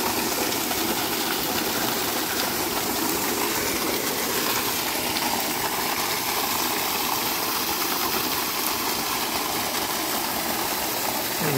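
Spring water fed by gravity flows steadily to fill the buckets of a farm water wheel, a constant loud rushing gush with no pauses throughout.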